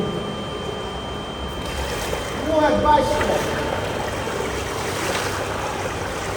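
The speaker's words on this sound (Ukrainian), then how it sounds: "Але течія надшвидка. Просто Карпатська річка, тільки підземна." Fast-flowing underground Poltva river rushing through a sewer tunnel beneath Lviv, a steady close watery roar and splashing, with someone speaking briefly over it.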